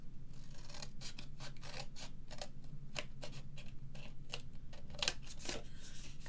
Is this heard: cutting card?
yes